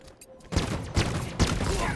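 Video game gunfire in a street battle, three sharp bursts of rapid shots about half a second apart, loud and close, following a brief quieter moment.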